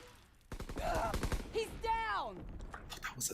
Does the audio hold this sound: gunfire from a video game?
yes